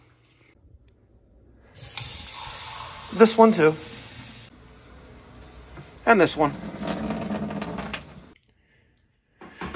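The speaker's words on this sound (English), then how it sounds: "I'm gonna open the hot and cold faucet on this fixture and a couple others in the home" Hot and cold taps on a Roman tub faucet fixture are turned on in bursts, each bringing a rush of running water with squeaky handle turns, while someone speaks briefly between them.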